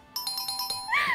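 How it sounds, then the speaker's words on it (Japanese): Electronic door chime playing a quick series of bright tones, followed by a rising tone, close and fairly quiet. "ピンポンらしい。"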